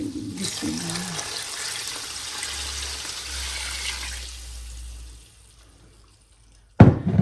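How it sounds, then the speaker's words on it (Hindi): Water poured into a cooking pot while making Pakistani-style nihari, a steady running pour lasting several seconds before fading out, followed by a sharp clatter at the end. "इसमें पानी और जाएगा।"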